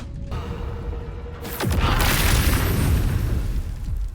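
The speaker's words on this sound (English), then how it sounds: "You hear an explosion, the earth shuddering beneath your feet in response." An explosion in Baldur's Gate 3 lands as a single loud, deep boom after a quiet moment with a faint tone, then leaves a heavy rumble that rolls on for a few seconds.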